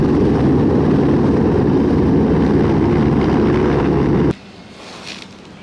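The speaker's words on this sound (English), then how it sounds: "Army helicopter!" An army helicopter's engine and rotor make a loud, steady broadband roar that cuts off abruptly near the end, leaving quiet background.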